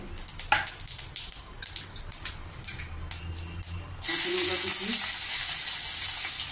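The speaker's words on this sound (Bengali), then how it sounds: "ওই তেলে ফোড়নে দিয়ে দিব তেজপাতা আর শুকনো লঙ্কা" Clatter and light scraping, then a sudden loud burst of hissing as bay leaves, dried chillies and cumin hit hot oil and sizzle steadily.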